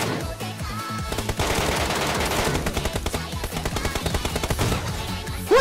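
In a video game, rapid gunfire from two-shot snap firing crackles in dense, close bursts of sharp shots that run almost without pause.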